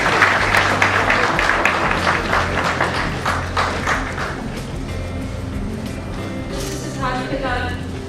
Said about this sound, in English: Two round of applause, please.